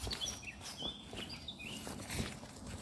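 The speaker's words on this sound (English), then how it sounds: "Birds are tweeting in the sky." Small birds chirp and tweet at dawn, just after 5 a.m., in the village of Bothwell: short, thin calls scattered over a soft outdoor background, with faint footsteps shuffling underneath.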